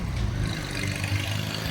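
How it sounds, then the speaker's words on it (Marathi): Engine of a Brezza car pulling out, a low steady hum and rumble heard close by with no voices. "गाईज आमची गाडी निघते बाहेर आता"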